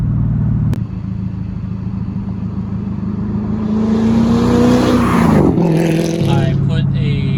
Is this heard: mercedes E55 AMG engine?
yes